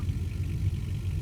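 A car engine rumbles steadily at a low, even pitch while driving in a video game, a continuous mid-level drone with slight revving and no talk over it.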